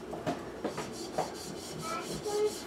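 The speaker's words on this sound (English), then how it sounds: "rub the surface clean" A pad soaked in alcohol rubs across the build surface of a NEVA 3D printer, producing a few soft, close scrubbing strokes in a quiet room.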